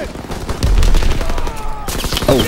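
Pistol gunfire in the World War II shooter Call of Duty WW2, a rapid string of sharp shots loud and close, mixed with other battle noise and a brief voice.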